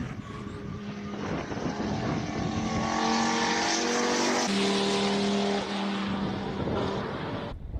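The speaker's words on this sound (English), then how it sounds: "Currently watching the 5-cylinder turbocharged Audi all-wheel drive." A 5-cylinder turbocharged all-wheel-drive Audi racing up a hill climb course in Cape Town, its engine roaring loud and steady, pitch climbing through gears with brief shifts, heard alone.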